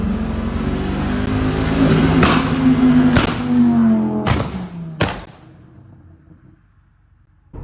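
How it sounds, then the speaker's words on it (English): Ford XR5 with a flame-spitting exhaust tune revving loudly up close, a rough roaring engine rising and falling, then several sharp bangs as it drops off and fades to near silence. "I might chuck some clips in there of what his car used to sound like with the flames"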